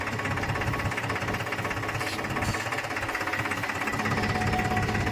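A tractor engine runs steadily on a village road, its rapid knocking diesel chug loud and continuous throughout, with no voices over it.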